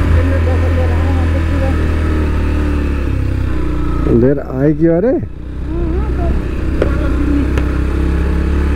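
A motorcycle engine drones loudly and steadily while climbing a rough dirt road in the Chitwan hills of Nepal. The rider talks and calls out briefly over the engine noise.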